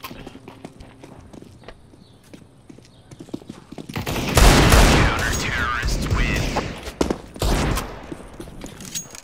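Rapid bursts of gunfire in Counter-Strike: Global Offensive erupt partway through, loud dense volleys that continue in waves over a quieter start of footstep-like clatter, with no speech.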